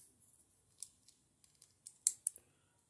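Beyblade Burst QuadS dual-pack parts being snapped into place, a handful of small, sharp plastic clicks close to the microphone, growing louder toward the end with a couple of crisp snaps, quiet between them.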